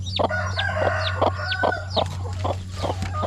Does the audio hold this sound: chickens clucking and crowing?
yes